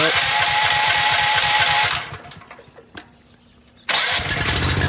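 A gas pressure washer engine runs loud and steady, cuts out into near silence with a single clank, then roars back to life and keeps running close by, with no voices.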